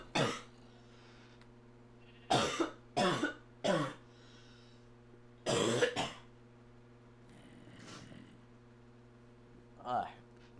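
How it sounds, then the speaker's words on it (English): A man with a cold coughs in a series of harsh, loud bursts, several close together with a throat clear, alone over a steady electrical hum. "Alright, I had a coughing session."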